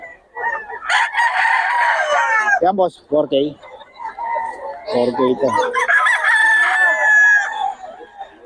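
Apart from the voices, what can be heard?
roosters crowing and clucking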